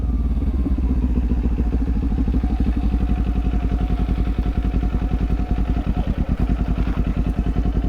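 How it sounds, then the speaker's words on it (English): A motorcycle engine braking while downshifting to first gear without the clutch, a loud, close, rapidly pulsing engine note with mechanical clatter that holds steady throughout. "We're going to shift down to first gear. I'm going to come to a complete stop by this mailbox. So no clutch."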